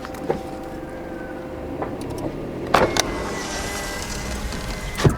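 A car parked at night beside a house, with low idling engine hum, a few sharp clicks and thumps, and a brief whir like a power window.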